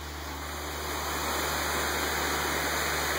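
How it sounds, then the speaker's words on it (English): A waterfall in the woods rushes as a dense, steady broadband roar, fairly close and unbroken, with no voices. "Sounds like a waterfall."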